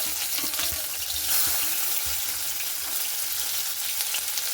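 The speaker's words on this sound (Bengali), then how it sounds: "পেঁয়াজটা আমি এখানে লাল লাল করে ভেজে নেব" Onions fry in oil with a constant bright sizzle, punctuated by scraping and stirring knocks from a utensil in the pan.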